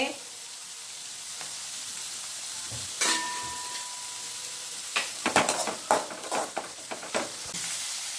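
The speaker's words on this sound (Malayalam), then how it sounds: "ഒരു മൂന്ന് വെളുത്തുള്ളി ഇതാ അരിഞ്ഞിടണേ" Three chopped garlic cloves drop into hot oil in a pan, giving a steady close sizzle with a sharper burst when they hit, then stirring clatter and crackling pops over the frying hiss.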